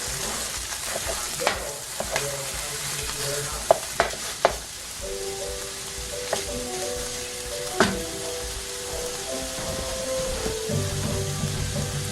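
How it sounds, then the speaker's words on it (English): Sausage browns in a pan with a steady sizzle, punctuated by scraping stirs and a few sharp clacks of a utensil against the pan; no voices. "we got our sausage browning up"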